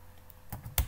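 Several quick keystrokes on a computer keyboard, close and fairly quiet, with one sharper key press near the end.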